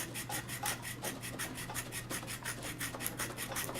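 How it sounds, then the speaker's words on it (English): The top surface of a knife is rubbed back and forth on a metal file, making a steady, rhythmic rasping scrape of quick even strokes, close up and alone. "I'm going to go ahead and rub the surface off of the top of this knife"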